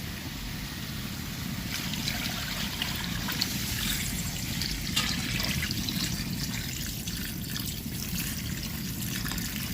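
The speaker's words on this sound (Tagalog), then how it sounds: "Lagyan na natin ng tubig." Water poured into a cooking pot of crab stew with rice: a continuous, fairly loud splashing pour running steadily for the whole stretch, close by and with no talk.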